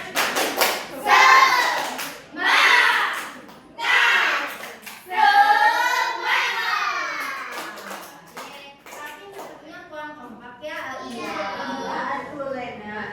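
A classroom of students performs the 'tepuk semangat' clapping chant, voices shouting in unison over sharp rhythmic hand claps, loud and lively, filling a room.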